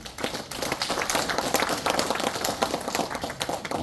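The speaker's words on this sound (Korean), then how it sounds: "큰 박수를 부탁드립니다" Sustained applause follows a special lecture by a citizens' school principal at a cultural centre, a dense, close crowd clapping evenly throughout with no talking.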